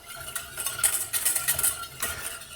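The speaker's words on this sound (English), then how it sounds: "I hope you like the sound of metal on metal" A metal whisk scrapes and clinks rhythmically against a metal pot while milk bread ingredients are whisked, bright repeated tinny strokes in quick bursts, close and clear with no voices.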